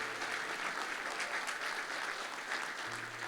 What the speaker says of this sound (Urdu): زوردار تالیاں خداوند یسوع مسیح کے لیے